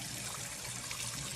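Water used for washing rice is poured off, a steady, faint, hissing trickle that runs through the whole short moment with no speech.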